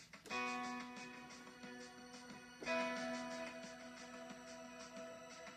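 Two sustained piano chords ring out, each struck sharply and left to decay, over a faint, quick ticking drum beat at low volume.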